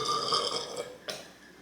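A loud, drawn-out burp while eating black bean noodles, a resonant tonal belch lasting nearly a second, followed by a brief sharp release sound and then quiet.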